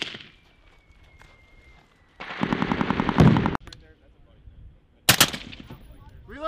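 US Marines firing machine guns in a live-fire urban raid exercise, a sharp, loud burst of rapid automatic fire, a pause, then a second short burst, with voices calling out around it.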